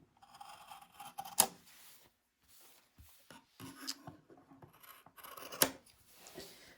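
Scissors snip the corners of a sewn collar in a series of close, crisp cuts, with soft fabric rustling between the louder snips.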